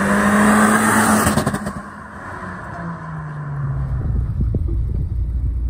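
An L15B7 engine-swapped Honda Fit on a private stretch of road: a loud engine note with a rising rev early, then a brief dip before a steady rumbling drone builds again, with no talking.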